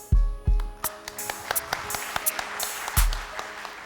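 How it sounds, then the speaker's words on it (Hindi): Applause from a studio audience on a Ramadan quiz show, scattered claps and sharp ringing hits with a few heavy low thuds, irregular and fairly close, with no voices. "तालियां कम बजी हैं"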